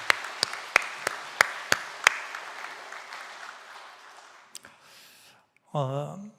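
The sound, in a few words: church congregation applauding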